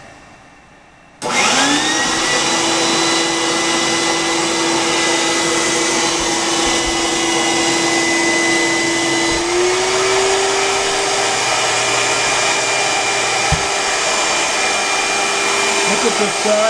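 A vacuum cleaner powering a DIY vacuum forming machine switches on and runs steadily, loud and close, with a constant high whine and airy roar throughout.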